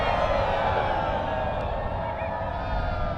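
Crowd at a live Tank Saturday event at Evolution, cheering and whooping in a loud, sustained roar that stays dense and steady throughout, with scattered shouts rising above the wash of voices.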